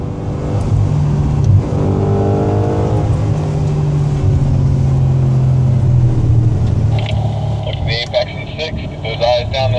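An Audi S5 accelerating during a lap of Sonoma Raceway, a loud sustained engine drone that rises in pitch in the middle before easing, heard from the cabin under an instructor's continuous talking, with brief clattering near the end.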